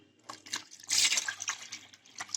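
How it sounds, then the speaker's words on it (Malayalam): Buttermilk poured into a heated pan for a Kerala moru curry, a short sizzling, bubbling splash with liquid gurgles and drips, close and moderately loud. "ഇതിലേക്ക് നമുക്ക് മോരൊഴിക്കാം."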